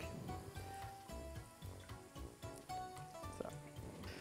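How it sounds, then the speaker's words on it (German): Steamed broccoli sizzles loudly in a hot pan just after being deglazed with white condiment vinegar, a dense crackling hiss running steadily throughout with brief spiky pops. "Jetzt löschen wir das Ganze noch mit unserem Condimento Bianco ab."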